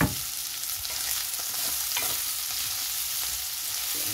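Beef sizzling in a frying pan while being mixed, a constant bright hiss with repeated scraping and clattering strokes of the utensil close by, no talking.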